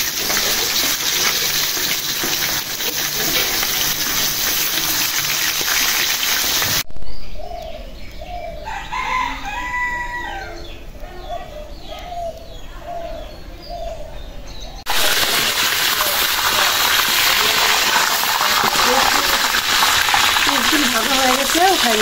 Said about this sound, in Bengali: তেলটা গরম হয়ে গেছে, এখন আমি রোস্ট গুলো ভাইজে নিই।